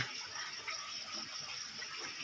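Water runs from a tap in a steady, soft hiss that stays fairly faint and even throughout, with no talking.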